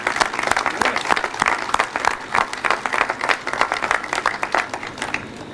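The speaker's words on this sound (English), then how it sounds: "a great round of applause goes out to our team members in particular." A crowd applauds steadily, dense overlapping claps filling the room at a loud, even level with a few scattered louder claps.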